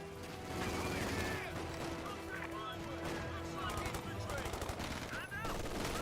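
Vickers K machine gun bursts from Company of Heroes 2 rattle continuously amid other gunfire and battle noise, with a commentator talking over the action.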